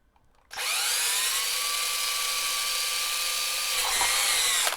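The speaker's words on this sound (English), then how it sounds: "So I'm drilling a wee hole first because the drill bit I've got that's the right size is not very sharp" A power drill bores a small pilot hole into a Squier 20th Anniversary Stratocaster guitar body, whining steadily and loudly for about four seconds after a brief quiet start, with a slight dip near the end.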